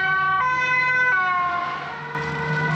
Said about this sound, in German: Ja, Krankenwagen.